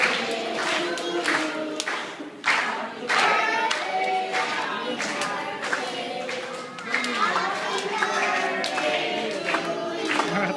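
A crowd claps and chatters together at a birthday party, the applause swelling and fading in uneven bursts with voices mixed in throughout.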